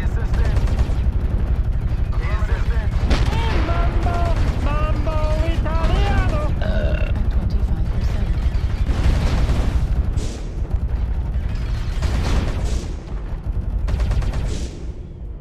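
Machine gun fire from a mech in MechWarrior Online with modded sounds, rapid loud bursts and explosions under someone talking, continuing through most of the stretch before easing slightly.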